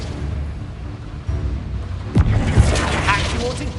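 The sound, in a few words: Confringo blasting spell explosion in Hogwarts Legacy video game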